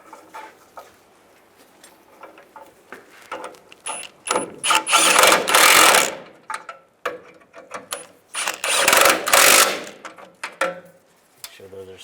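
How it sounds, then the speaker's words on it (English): Transmission mount nuts on a Chevrolet Silverado are run down with a ratchet, giving close, rapid clicking bursts in two long runs, with small metallic taps and handling between them. "Now I take the 2 transmission mount nuts, put these back, get those started, and tighten them down."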